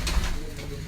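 Sialkoti pigeons coo softly among decorative cages at a loft in Islamabad, a low steady murmuring that runs through the whole short moment without any voices.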